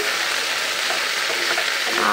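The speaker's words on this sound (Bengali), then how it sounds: "আর এই যে আমি ভেন্ডি আলু ভাজা করছি" Okra and potatoes fry in a pan with a steady, dense sizzle that fills the whole stretch, close and fairly loud, with faint stirring scrapes and no talk.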